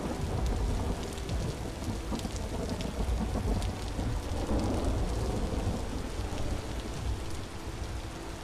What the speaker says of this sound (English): You've got a storm up ahead.